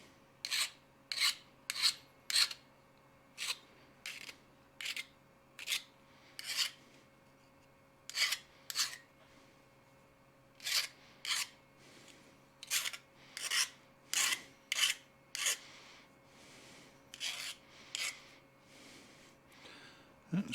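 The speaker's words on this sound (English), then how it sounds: "And a quick deburr on those." Metal corners being deburred with a hand file, about thirty short rasping strokes in a steady rhythm, close and fairly quiet over a low background hum.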